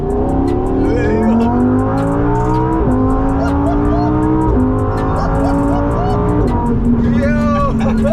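A Lamborghini Huracan V10 engine revs repeatedly through rising gear pulls toward 200 mph, each climb dropping sharply at the shift, with voices talking over the roar.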